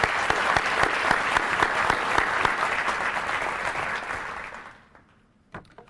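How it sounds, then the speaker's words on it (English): An audience at an awards ceremony applauds in a dense, steady burst of clapping for about four seconds, then fades out to quiet, with a couple of scattered late claps. "Let's give them a round of applause."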